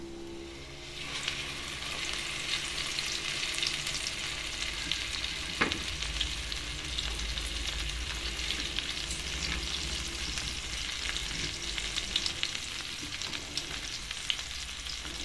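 Fish frying in hot oil in a kadai for a crispy Thai-style fish, a steady dense sizzle running throughout with a brief sharper crackle partway, no voices.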